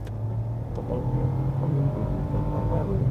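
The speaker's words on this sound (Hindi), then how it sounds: "अब दें इसको जरा थ्रॉटल" A car engine is given throttle and its low, steady hum swells slightly as the revs build, close by and brief, with no talking.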